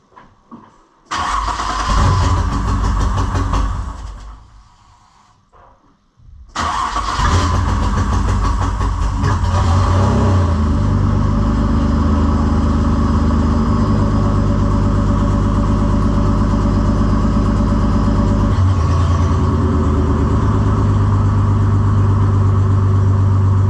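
A Toyota Supra mk3 engine, on a car being prepared for drifting, starts up, dips briefly, then catches and revs and idles loudly and close, with the engine tone shifting as the throttle is worked.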